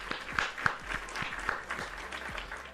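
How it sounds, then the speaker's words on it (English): A canned applause effect plays during a live coding stream, light scattered clapping with a few sharper claps standing out, moderately quiet and with no voice over it. "so I'm going to give you a round of applause for that."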